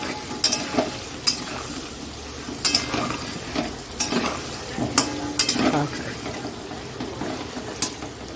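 Chicken with turmeric is stirred in a hot pan: a spatula scrapes and clatters at irregular intervals over a soft, continuous frying sizzle, with no talking.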